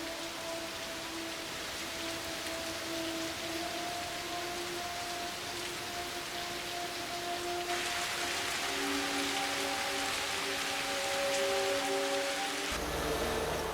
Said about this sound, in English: This endless rain creates a problem even bigger than mud.